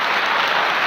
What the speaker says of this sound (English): No, don't applaud that.